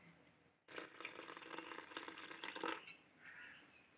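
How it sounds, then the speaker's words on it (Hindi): Water pours in a steady stream into thick homemade mango panna in a kitchen, a close, continuous splash lasting a couple of seconds after a quiet start, then tapering into a fainter trickle. "अब हम इसमें थोड़ा पानी भी ऐड कर लेंगे।"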